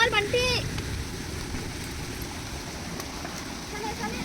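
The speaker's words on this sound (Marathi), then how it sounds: "पाऊस एवढा पडलाय की परत शेता भरली" Heavy rain pours over flooded fields in the Konkan region, a dense steady hiss filling the scene, with a brief voice near the start.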